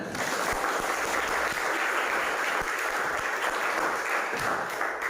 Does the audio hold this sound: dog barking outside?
no